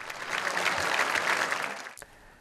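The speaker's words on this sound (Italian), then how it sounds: "Il pubblico sassarese ha tributato diversi minuti di applausi" Audience applause for a young violinist at a concert in Sassari, Italy: dense, steady clapping from a sizeable crowd that holds for about two seconds, then breaks off abruptly.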